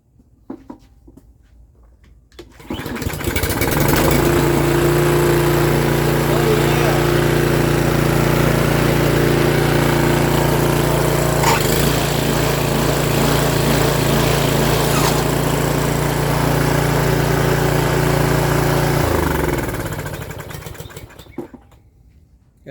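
Toro string trimmer engine running after a carburetor replacement, starting up and holding a loud, steady buzzing drone for about sixteen seconds before dying away, close and alone.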